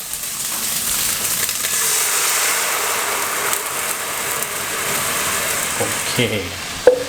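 Marinated pork with garlic stir-frying in a pan, a loud dense sizzle that holds steady throughout, with a few clinks of a utensil near the end.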